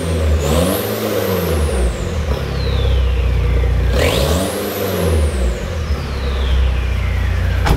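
A mud vehicle's engine roars continuously on a cold start, with two strong revving surges rising and falling in pitch, steady rumble underneath, no voices.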